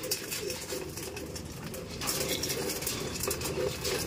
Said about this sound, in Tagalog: Oh, meron pa palang ibon doon sa loob.